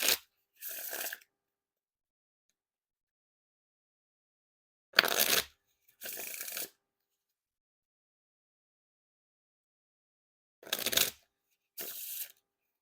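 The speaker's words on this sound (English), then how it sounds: "And now time for the Riffle Shuffle or Bridge Shuffle." Riffle and bridge shuffles of an Eastern Forest deck of playing cards by Art of Play, three separate bursts of crisp fluttering card riffles, each followed by a softer cascading bridge, close and alone with silence between.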